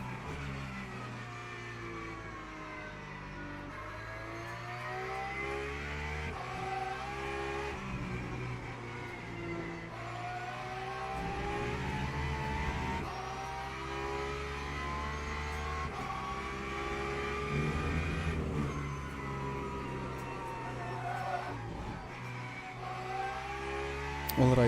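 A Porsche GT3 race car engine in a racing game drones and revs steadily, its pitch rising and falling through gear changes, loud and continuous for the whole stretch with no talk.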